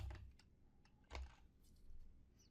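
Keys on a computer keyboard being typed in a quiet room, a few soft, separate clicks with pauses between them, close but faint.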